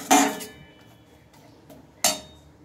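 Grated mango pickle is stirred in a bowl, producing two sharp metallic clinks of a utensil against the dish about two seconds apart, with quiet scraping in between.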